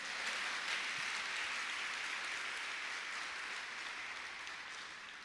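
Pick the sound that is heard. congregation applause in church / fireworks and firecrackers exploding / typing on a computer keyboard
congregation applause in church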